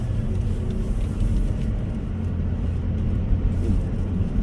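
Performance sedan accelerating from a light touch of the gas, heard from inside the cabin as a steady low engine and road rumble, with no talking.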